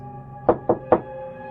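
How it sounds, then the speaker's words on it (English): Three sharp knocks on a door land in quick, even succession, crisp and close against a quiet background hum. "Finally, a knock on the door."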